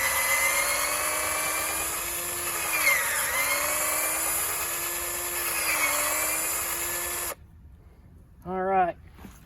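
Power drill boring a 1.5 inch tap hole into a maple tree for sap collection, a loud sustained whine that dips in pitch under load for about seven seconds, then stops with brief talk after.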